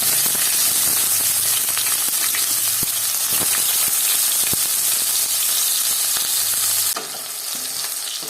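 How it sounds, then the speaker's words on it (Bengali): Onions and nigella seeds fry in hot mustard oil with a loud, steady sizzle and crackle, stirred with scraping clicks; the frying drops a little in level near the end. "তেল গরম হয়ে গেছে, দিয়ে দিলাম কালো জিরে, দিয়ে দিলাম পেঁয়াজ"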